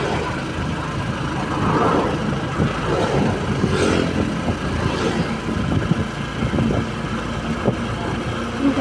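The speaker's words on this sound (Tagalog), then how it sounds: "Tricycle." A motorized tricycle rumbles along a road toward a village, its engine droning steadily from on board, with wind and road noise mixed in.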